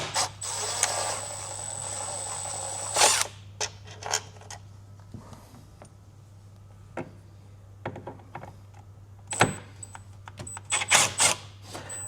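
Two T30 screws being backed out of the side of a 2026 Mazda CX-50 taillight, with a tool giving bursts of close ratcheting clicks and mechanical ticks, separated by quiet pauses under a constant low hum.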